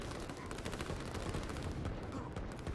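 Artillery and gunfire from the strategy video game Line War, heard as dense, continuous crackling bursts of distant shots and booms, steady and fairly faint throughout.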